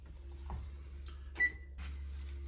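A kitchen oven chirps a short electronic beep as it is set to preheat to about 400 degrees for roasting Brussels sprouts, one clear tone with a softer click or two over a low steady hum.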